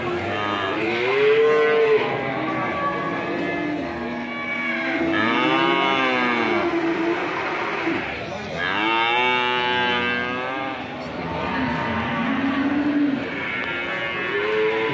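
Cattle lowing repeatedly at a busy cattle market in Sleman, with several long, loud moos overlapping in close succession and no talk.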